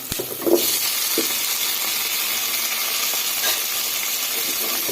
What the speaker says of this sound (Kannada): ಟೊಮೆಟೊನ ಸೇರಿಸಿ ಚೆನ್ನಾಗಿ ಫ್ರೈ ಮಾಡ್ಕೊಳ್ಳೋಣ.